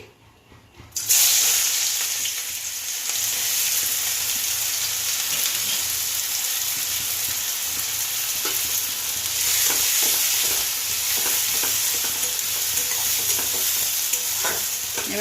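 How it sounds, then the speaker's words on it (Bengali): Chopped onions hitting hot oil in a wok for Bengali egg curry gravy burst into a loud, dense sizzle after a quiet start, then hiss steadily with scattered stirring clicks, close up. "আমি পেঁয়াজ কুচি দিয়ে দিচ্ছি"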